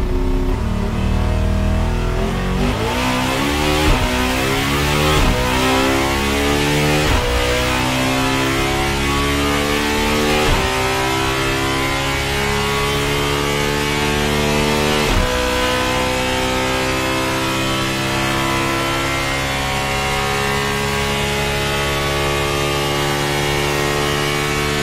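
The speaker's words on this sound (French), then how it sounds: "ils ont dévoilé le son du moteur sur le banc de puissance" The Bugatti Tourbillon's V16 engine revs hard on a dynamometer, loud and close, climbing through repeated sweeping runs up the rev range with brief drops between pulls and a dense, smooth multi-cylinder howl.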